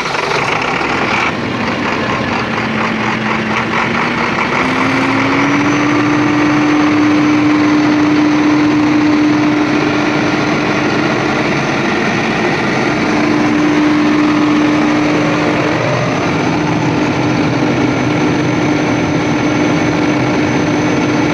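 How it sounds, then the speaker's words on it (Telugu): A new Kirloskar diesel generator engine runs loudly and steadily up close, a dense continuous rumble with a drawn-out tone that rises slightly as the engine settles. "ఇది కొత్త జనరేటర్ ఇది."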